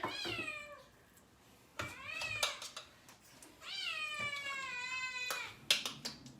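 A house cat meowing insistently for food nearby, several drawn-out loud meows in separate bursts with faint clicking in between.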